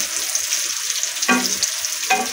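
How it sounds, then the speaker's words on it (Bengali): Cashews, raisins and whole spices fry in ghee for pulao, a soft steady sizzle broken by two sharp metallic clinks of a spatula against the pan. "কাজু কিশমিশ পড়ে গেল ঘিয়ে, একটু হালকা ভেজে নেবে"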